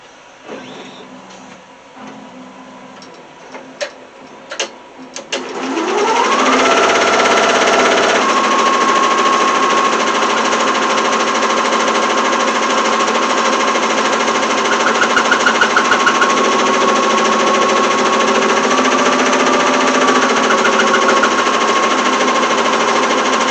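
A sewing machine stitches fabric for a plush stuffed toy. After a few faint clicks it starts up and runs as a steady, loud mechanical whir that lasts to the end, with no talking over it.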